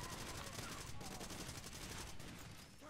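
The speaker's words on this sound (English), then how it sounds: "all the gunfire is happening over here" Dense gunfire from the video game Far Cry 2 rattles continuously, with overlapping rapid shots, bursts and very close shotgun blasts at close to mid range, loud throughout.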